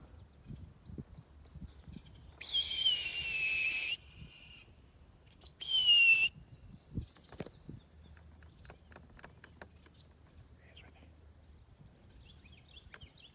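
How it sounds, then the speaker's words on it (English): Two high, drawn-out hawk screeches ring out from a distance, separated by a short pause, with soft footsteps and rustling between them. "yeah, I hear you, hawk."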